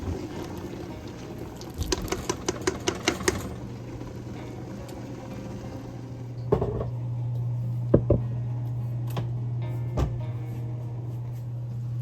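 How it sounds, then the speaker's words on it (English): Muscadine grapes mashed by hand to extract juice, with a run of quick rhythmic squelching presses early on, then scattered wet squishes and knocks over a steady low hum. "I just go in and just mash them. We're just trying to extract the juice"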